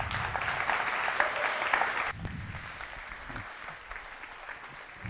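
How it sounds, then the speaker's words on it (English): Audience applause at a speakers' dinner panel on AI and ethics, steady clapping from a room of guests that drops to a thinner, quieter patter partway through. "Let's give them a warm applause."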